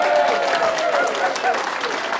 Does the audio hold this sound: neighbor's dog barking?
no